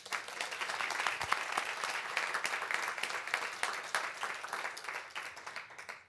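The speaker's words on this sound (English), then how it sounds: "Nancy, can we have a round of applause for her?" Applause from a panel audience, a few seconds of steady clapping from a modest crowd at moderate distance, thinning out and fading toward the end.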